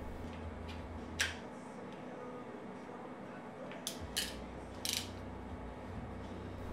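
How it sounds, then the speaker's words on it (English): A DN-CT wire crimper ratchets through a few dry clicks, sharp, close and sparse, spread out over a low steady background hum with no voices. "Ratchet to the fourth click and slide a die in."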